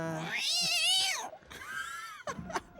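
A cheesy cat sound effect from a horror movie: a loud, drawn-out yowling meow followed by shorter cat cries, close and clear with no talk over it.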